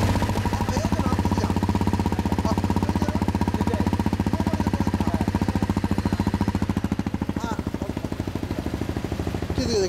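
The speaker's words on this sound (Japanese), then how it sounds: "CBR 2012年。 12年モデルか、はい、エンジン音聞かせてくれる？" A 2012 Honda CBR motorcycle engine idling nearby, a steady rapid putter with a fast, even firing rhythm that holds throughout, loud and close, with faint background voices.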